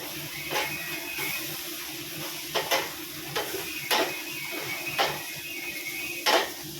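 Tomato pieces stirred into an eggplant masala curry frying in a pan: a continuous sizzle broken by about six sharp, regular clinks of a spoon against the pot, close and clear with no talking.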